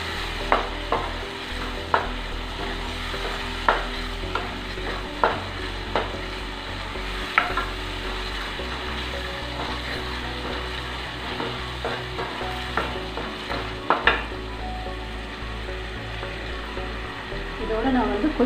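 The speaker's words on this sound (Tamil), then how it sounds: "இதையும் நல்லா வதக்கிக்கலாம்." Ingredients for a fish curry sizzle steadily in a frying pan, with a spoon scraping and tapping the pan at regular intervals throughout.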